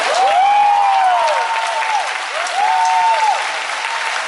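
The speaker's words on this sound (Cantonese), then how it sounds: "俾啲掌聲新人" Audience applause greets a new performer at a Cantonese opera curtain call, a dense, steady clapping crowd that holds loud throughout, with a whistle or shout sliding up and down over it.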